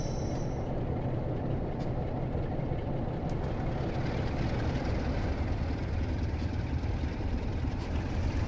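A Class 47 diesel locomotive pulling away in a train simulator, its engine giving a steady, loud, dense rumble and drone throughout with no breaks or talk.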